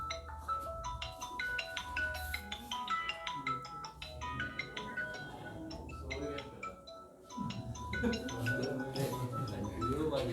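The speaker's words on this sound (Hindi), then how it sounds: "बंद करिए यार, किसका फोन है।" A mobile phone ringtone plays in a classroom, a bright, repeating melodic tune that rings on for several seconds with faint room sounds behind it.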